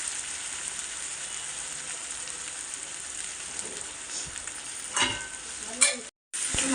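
Ridge gourd and minced mutton frying in a pan give a steady, hissing sizzle close by, with a few louder stirring scrapes near the end before a brief cut to silence.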